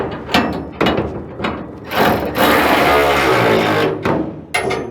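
A ratchet wrench cinches down a steel bar in the stake pockets of a truck bed, loud rapid ratcheting bursts with metallic clanks and a sustained grinding stretch, close up and without speech.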